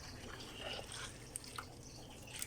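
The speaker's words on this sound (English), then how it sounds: "fill the container with" Water poured from a container into packed soil in a bonsai pot for a Montezuma cypress pre-bonsai, heard as quiet trickling with a few small drips and splashes, close by and faint, with no talking.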